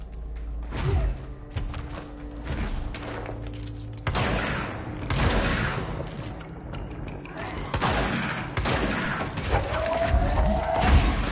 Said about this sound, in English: Oh, we got a machine gunner up there.